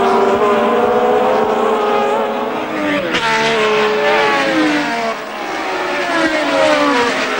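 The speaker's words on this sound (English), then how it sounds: "Jackie Ickx from Belgium then leading the British Grand Prix at the end of the first of 80 laps" Formula 1 cars from 1970, including a Ferrari, racing at the British Grand Prix: loud, high engine whines overlap and shift in pitch as several cars scream past close by, one after another, with no clear speech.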